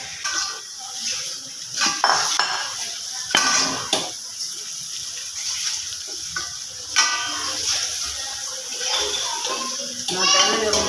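Okra goes into a cooking pot with clattering and knocking of a utensil against the pan, over a light sizzle. The sounds come in irregular bursts, and a voice talks in the background.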